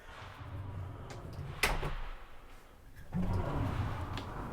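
A pocket door slides on its track in the pass-through bathroom of a 2025 Rockwood Ultra Lite 2619FK travel trailer, giving a quick rolling rush with a soft thud, then a second longer rumble as it moves back.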